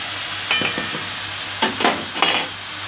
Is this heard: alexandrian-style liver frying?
yes